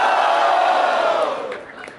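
Audience at a Batalha da Leste rap battle erupting in loud cheers and shouts, a dense steady roar that tapers off, with a few scattered whoops near the end.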